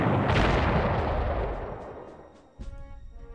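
Artillery fire in the Panzer Corps video game during a 1939 Westerplatte battle: a loud, booming blast that rumbles and decays over a couple of seconds, followed by a sharp second impact and crackling debris, with no voices.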